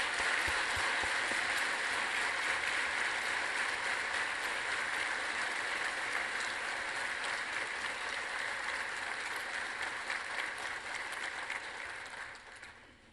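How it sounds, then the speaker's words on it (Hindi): A conference hall audience stands and applauds to welcome Narendra Modi, a dense, steady roar of clapping that holds loud for about twelve seconds before tapering off at the end, with no talk over it. "मैं आप सभी को खड़े रहकर उनका ताली के साथ स्वागत करने"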